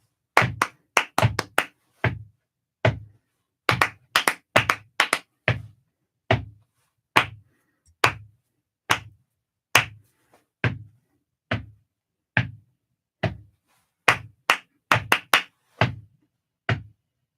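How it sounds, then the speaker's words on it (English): Hands clap sharply to a steady pulse, dry and close, with many crisp claps at a fairly regular rhythm and a few quick doubled claps between them, separated by silence and with no talking. "Whoops, it was me clapping."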